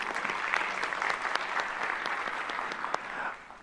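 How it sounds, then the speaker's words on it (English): An audience at a science panel discussion applauds warmly, a dense, even wash of clapping that holds steady for a few seconds and then tapers off. "please give yourselves a round of applause"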